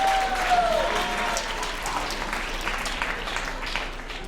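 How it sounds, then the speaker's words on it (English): A school crowd applauds steadily, a dense wash of clapping that holds for several seconds, with a brief whistle at the start. "Let's give them a big round of applause."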